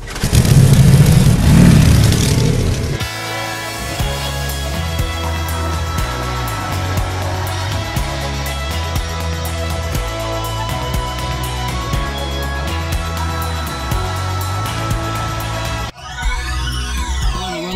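A motorcycle rides along a road, its engine droning loud and close with a steady, rhythmic throb and shifting revs. A rush of wind noise comes at the start, and no one speaks.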